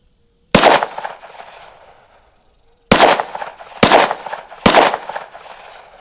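Four sharp, loud gunshots from a Smith & Wesson firing extreme penetrator rounds at an outdoor range: one crack with a long fading echo, then three more in quick succession about a second apart.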